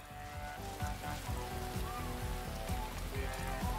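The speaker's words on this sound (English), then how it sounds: "It's just raining." Steady rain patters in the Astro's Playroom video game, a dense even hiss with many small droplet ticks throughout and faint game sounds beneath.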